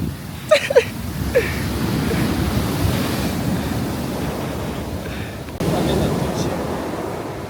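Ocean surf rolling in along a coast in Albania, a steady loud wash of breaking waves mixed with wind buffeting the microphone, with brief faint voices near the start.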